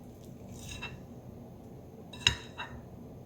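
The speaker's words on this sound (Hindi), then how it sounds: "एक नॉर्मल स्पून लेंगे, चम्मच लेंगे, और उससे इस तरह से 1 स्पून जितना हम डो लेंगे इसमें" A normal metal spoon scoops cookie dough onto a parchment-lined baking tray, giving a few faint, scattered clinks and soft scrapes in a quiet kitchen.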